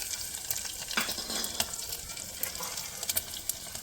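Cumin and garlic sizzle in hot oil as a tempering for a Gujarati dish, with a steady crackling fry and a few sharper pops and spoon clinks close by.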